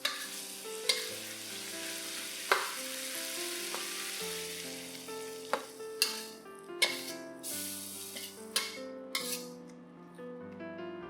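Eggs and leeks sizzle in a hot pan as they are stirred, with intermittent scraping clicks and knocks under steady tonal background music.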